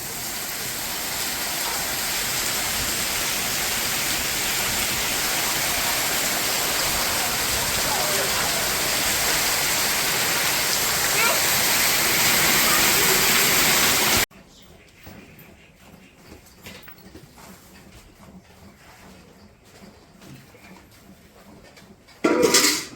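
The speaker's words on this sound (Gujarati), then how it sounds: "ફૂલ વરસાદ છે મજા આવે નાવાની વરસાદમાં" Heavy rain pours in a dense, steady roar, then cuts abruptly to a much quieter scene with soft scattered sounds and a brief loud burst at the end.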